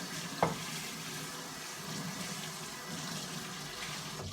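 Water running steadily from a kitchen tap while potato chips are washed, a constant close splashing hiss with one short clatter near the start.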